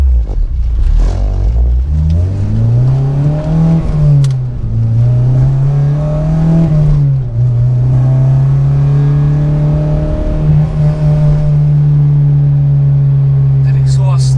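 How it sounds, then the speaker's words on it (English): An Acura RSX engine revs loudly and climbs in pitch as it accelerates, exhaust prominent, then holds a steady droning note, close and dominant throughout. "That exhaust, I can't get over it. It sounds so good."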